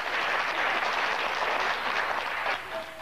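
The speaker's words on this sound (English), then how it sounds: "After the vote, the dancers let loose with a round of applause." Square dancers applaud from a Statehouse gallery in a steady, dense round of clapping that fills the room, then thins and fades near the end.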